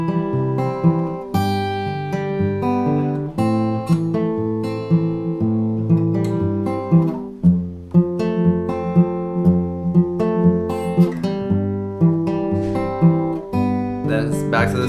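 An acoustic guitar plays a Travis-picked melody, with a steady alternating bass under plucked melody notes, close and clear, with no voices.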